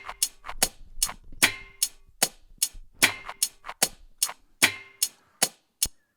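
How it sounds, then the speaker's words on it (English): A self-made percussion sample recorded from a lighter in a kitchen, looped into a drum pattern: crisp, bright clicking strikes in an even, repeating rhythm, close and alone with no other sound. "so it's some sort of sound I made originally with the lighter."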